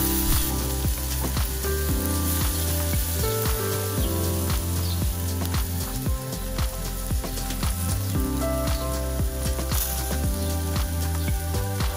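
Garlic ginger BBQ chicken sizzles and caramelizes in a hot pan in a Japanese-style dish, a loud, steady crackling fry with dense spitting pops running throughout, no voices.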